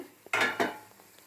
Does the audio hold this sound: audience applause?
no